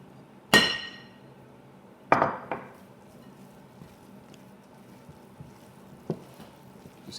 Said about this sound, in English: Just keep mixing all of this together.